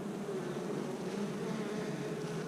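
Dense, continuous buzzing of many honeybees in a hive, steady and close, with no pauses or voices.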